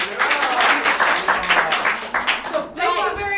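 Audience at a Free Fringe comedy show clapping together in a sustained burst of applause, fairly close and loud, with voices talking over it and a shift to louder chatter near the end.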